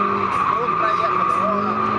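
Car drifting and spinning out on a track, tires squealing in a loud continuous screech with wavering tones over engine noise, close by.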